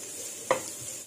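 Steady sizzling of onions sautéing in hot oil, with a single sharp clink of a utensil against the pan partway through.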